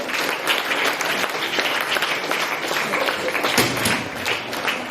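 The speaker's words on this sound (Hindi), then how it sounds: "बच्चे भी जोरदार तालियां बजाएं उनके स्वागत के लिए" Loud, steady applause from a crowd of students at a school maths fair and exhibition, continuous clapping filling the whole stretch without talk.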